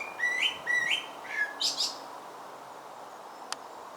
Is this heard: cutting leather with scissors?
no